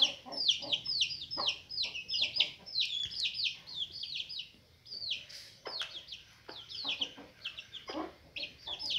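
A flock of chickens clucks and chatters busily in rapid, overlapping bursts, close by, with scattered rustling and no speech.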